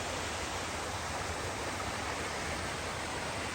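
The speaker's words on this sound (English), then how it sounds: "show you all the rocks, the little waterfall" A small waterfall on a rocky stretch a few minutes outside Sparta, Tennessee, pours in a steady, dense broadband rush that holds an even level from start to finish, close by and with no voices over it.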